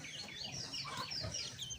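A chicken clucks close by in a short, uneven run of throaty calls over a couple of seconds, with a faint murmur in the background.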